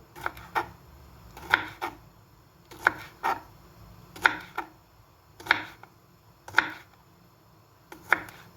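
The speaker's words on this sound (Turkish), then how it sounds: "Şimdi de doğrayalım bir tane bir tane doğramamız lazım." A knife chops jalapeno peppers into finger-thick pieces on a cutting board for pickling, giving about a dozen sharp, close knocks that fall mostly in quick pairs at a steady pace, with no talk.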